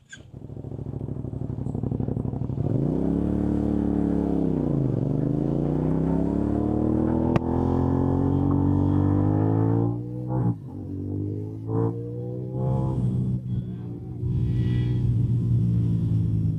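A CFMOTO 450 NK naked motorcycle under way, its engine droning steadily and rising and falling in pitch as the rider rolls on and off the throttle, loud and close throughout with brief dips in between.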